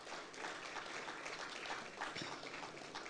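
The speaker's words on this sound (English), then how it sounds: "we can give ourselves a round of applause for that." A symposium audience at a journalists' association anniversary gives a round of applause, a faint, steady clapping heard from a distance, with no talking over it.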